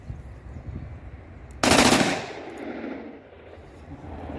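A Desert Scorpion 20 fires a short full-auto burst, a loud rapid rattle of shots lasting under half a second, then a rolling echo fades away over a steady outdoor background hiss.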